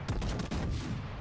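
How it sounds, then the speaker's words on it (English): Battleship main guns ripple-firing in a naval combat game, a quick series of heavy booming shots overlapping into one another in a dense, loud burst. "So just a bit of ripple fire, just to try and spread them shots off"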